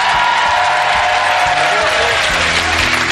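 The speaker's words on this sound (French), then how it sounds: "on applaudit les Rouges" Dense, steady applause from a studio audience at a Quebec television talk show, loud and continuous throughout, with a few scattered whoops and cheers mixed into the clapping.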